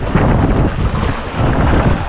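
Strong wind blowing across flooded ground, a loud, rough, rumbling rush buffeting the microphone without break, with no voices.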